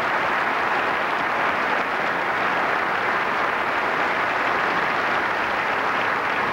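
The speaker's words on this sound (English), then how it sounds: "I personally would like to thank you and offer a round of applause for this great champion." A banquet hall audience at the 2001 NASCAR Awards Banquet applauds a champion in a dense, steady wash of clapping that continues unbroken and fairly loud from start to finish.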